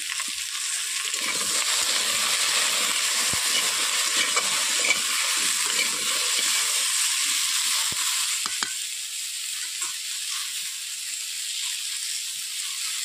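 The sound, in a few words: elephant foot yam (kham alu) frying in pan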